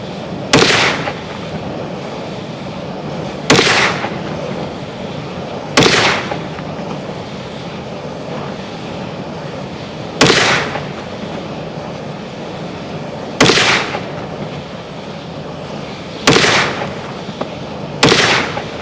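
A Smith & Wesson M&P .22 Mag 2.0 pistol fires seven sharp, loud cracks spaced a few seconds apart. Each shot has a brief ringing tail over steady background noise, with no talking.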